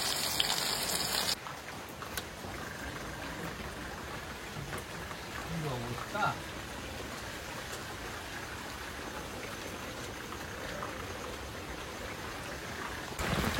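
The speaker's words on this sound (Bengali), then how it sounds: "সারাদিন পরে তো বৃষ্টি হয়ে যাচ্ছে" Steady monsoon rain falls in a rural village on a dark afternoon, a dense even hiss of drops that runs throughout, louder at the start and end, with faint voices and small kitchen clatter underneath.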